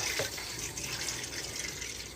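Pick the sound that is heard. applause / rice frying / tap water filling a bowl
tap water filling a bowl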